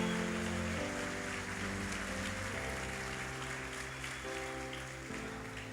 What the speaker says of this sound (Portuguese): Só quem acredita faz barulho para Deus, celebra, glorifica, aplaude com mais força.